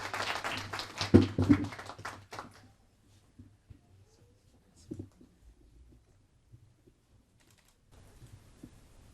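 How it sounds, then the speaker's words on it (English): An elementary school audience applauds a young speaker, a short burst of clapping lasting about two seconds that quickly dies away into near silence with faint scattered knocks. "For a huge round of applause."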